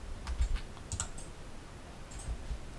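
Keys on a computer keyboard are pressed in a few scattered, crisp clicks with short gaps between them, close and fairly quiet, with no talking.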